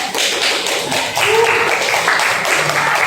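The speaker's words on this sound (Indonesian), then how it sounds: "Tepuk tangan teman-teman." Classmates in a classroom break into brisk applause, a dense wash of many hands clapping that fills the room continuously at close range.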